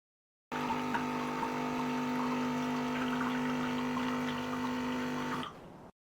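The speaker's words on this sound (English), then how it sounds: "Turn on the steam knob to release the water." An Electactic CM8032S espresso machine in auto cleaning mode pushes water out through its steam wand with a steady pumping hum and hiss. The sound holds at an even level for about five seconds, then cuts off.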